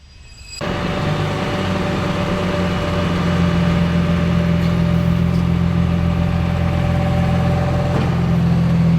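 A second-generation Toyota Cressida car drives with a steady, close engine drone that kicks in abruptly after a brief quiet start and holds evenly throughout, with no talking.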